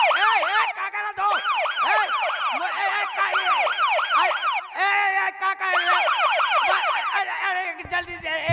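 A loud wailing ambulance siren sweeps up and down continuously at a live Ramleela comedy stage show, dominating the scene with a brief gap partway through.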